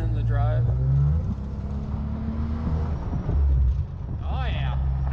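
A lifted 2017 Jeep Wrangler JK engine rumbling low and loud from inside the cabin as it accelerates while driving, with a voice speaking over the drone.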